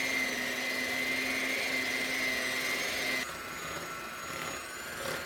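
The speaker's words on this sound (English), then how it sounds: "It's still creaming the butter, the sugar, and the egg mixture." An electric mixer creams softened butter, sugar and egg for snickerdoodle dough, giving a steady loud whirring drone with a high whine that drops slightly in pitch and volume partway through; no talking.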